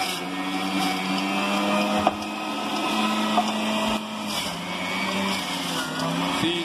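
A WestPoint WF4806 kitchen chef runs as a juicer, its motor whirring loudly and steadily up close, the pitch wavering slightly as produce is fed through.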